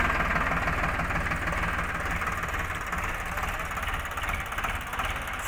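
Tractor engine with a single-jack hitch-mounted heavy-duty loader, idling in a continuous steady knocking rumble with a mild vibrating hum, close by and without voices.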